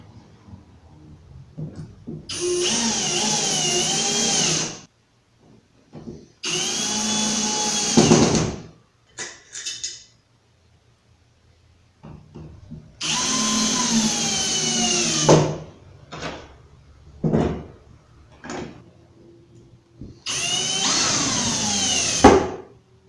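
A power driver sinks 6 x 5/8 inch screws into the wooden side of a nightstand, whirring in four sustained bursts of a few seconds each, separated by short knocks and pauses.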